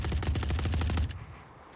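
An Ares machine gun fires in Valorant, a fast, even burst of about a dozen loud shots that stops sharply, leaving a short fading tail and quiet.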